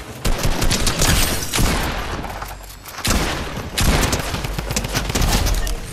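Sustained bursts of automatic gunfire ring out in Fortnite as a player sprays rounds at a building, loud rapid volleys broken by a short lull and then resuming at full intensity.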